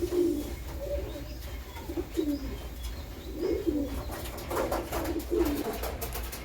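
Pigeons coo in a steady series of throaty, rolling calls, close by, with a few light chirps and faint rustling behind them.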